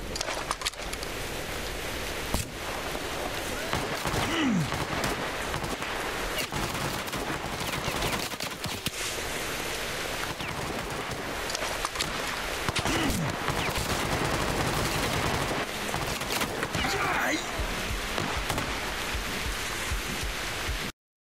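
Gunfire in the S.T.A.L.K.E.R. Clear Sky shooter, with repeated sharp shots and bursts cracking throughout over a dense, rustling background that sounds like rain or wind.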